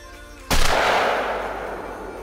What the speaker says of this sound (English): I'm just going to show you the end of my shotgun and the pellets in it.